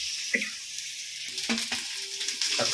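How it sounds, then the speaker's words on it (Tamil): Ginger and garlic sautéing in a pan for a Tamil home-style rice dish, a steady close sizzle of frying with a few stirring scrapes and clinks of a spoon against the pan. "கொஞ்சம் வதங்கட்டும் நல்லா வதங்கட்டும்மா"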